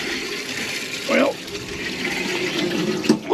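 Water runs steadily into a large 120–150 gallon RV fresh water tank at a campground, a constant close hiss with a couple of brief louder gurgles, with no talking over it.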